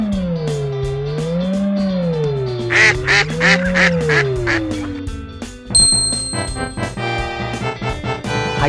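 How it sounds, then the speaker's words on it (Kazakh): A duck quacks in a few short, nasal bursts near the middle, set within a children's farm song with a sung melody and a bright chime. "Ненің дауысы деп ойлайсың? Әрине, бұл үйрек."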